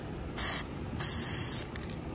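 Black Ford automotive base coat sprayed from a can onto cardboard in a home garage: two close hissing bursts, a short one and a longer one, with faint sputters after.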